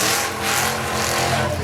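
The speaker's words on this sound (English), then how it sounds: "There's the Falcon Sprint, yeah," A 1964 Ford Falcon Sprint race car with a 392 engine, at a historic motor racing event, roars loud and steady nearby, its engine note broad and continuous as it passes.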